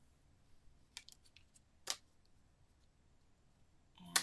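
Scissors trimming a sheet of watercolor paper down to 5x7, heard as a few faint, sharp snips spaced apart in a quiet room.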